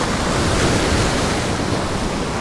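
Ocean swells wash over the rocks of the Galveston Seawall in a steady, loud roar of surf and rushing water, with heavy wind buffeting the microphone and no voices.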